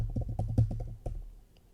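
Someone typing code on a computer keyboard, a quick run of close, soft key taps that slows and fades out.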